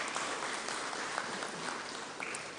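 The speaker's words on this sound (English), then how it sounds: "a round of applause?" Steady applause from an audience at a public forum, a dense wash of many hands clapping continuously and fairly loud throughout, with no talk over it.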